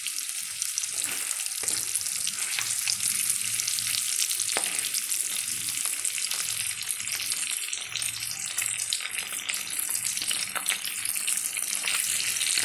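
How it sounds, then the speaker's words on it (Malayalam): Masala paste for egg roast fries in a pan with a continuous, close sizzle and crackle throughout, loud and steady with no talking over it. "അപ്പം നമുക്കിതിനകത്തേക്ക് അരപ്പൂട്ട് ഇട്ട് കൊടുക്കാം"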